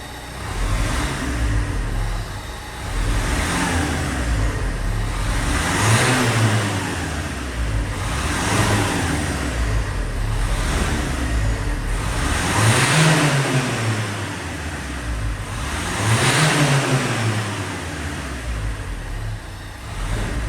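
A 2013 Renault Kangoo 2 with a 1.5 dCi diesel engine and a faulty turbo pressure sensor revs repeatedly, several rising and falling surges over a steady close running drone, without talking.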